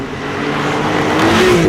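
A base Porsche 991.2 911 Carrera accelerating hard under full power, its engine note climbing steadily in pitch and growing louder, heard close up with no talk.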